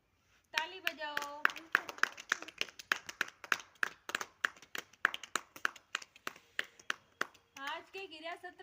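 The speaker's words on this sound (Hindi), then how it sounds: "ताली बजाओ।" Children clap their hands in counted rhythmic bursts during a classroom activity session, sharp separate claps in steady groups, with a voice leading the count at the start and end.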